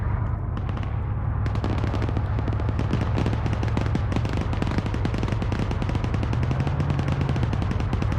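Heavy gunfire rages through a video game firefight: dense, overlapping bursts of shots and automatic fire pour out nonstop, loud and close, with no pauses and no talk.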